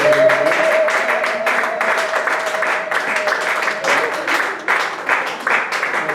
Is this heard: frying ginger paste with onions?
no